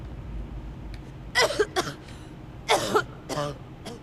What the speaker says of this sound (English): that is some impressive coughing and heavy breathing